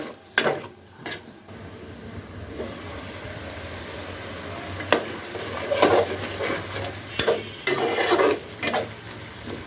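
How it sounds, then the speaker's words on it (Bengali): Spice paste and potatoes sizzle and fry in a pan while being stirred for a pui shak dish, a soft continuous hiss broken by sharp scraping clicks of a spoon against the pan, fairly quiet and close. "এবার মশলাটা কষানোর সময় এর মধ্যে আলুটাও দিয়ে দিব"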